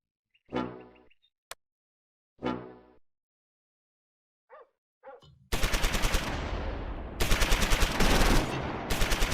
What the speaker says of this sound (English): .32's 60mm mortar targets the German mortar half-track.